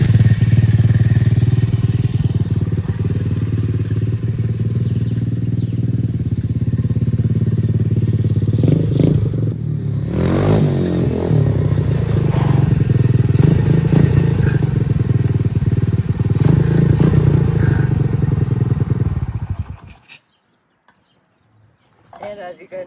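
A dirt bike engine with a choke and throttle and no kill switch runs loud and close, bogging out on too much fuel with an uneven, sputtering tone before cutting out abruptly near the end, leaving near silence.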